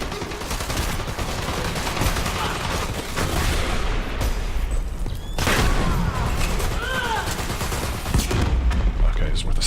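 Gunfire in the video game Dirty Bomb, dense rapid shots and bursts crackling continuously and loudly, mixed with explosions and battle noise, with voices talking underneath.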